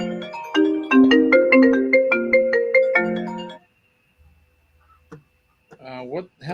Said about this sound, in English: Your phone was going off there